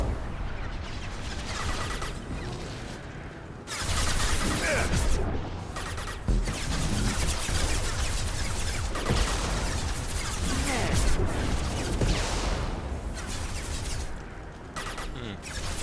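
Gunfire and explosions from a Mass Effect 2 Legendary Edition battle, with dense, continuous loud blasts, crashes and rattling shots filling the whole stretch. Speech may run underneath.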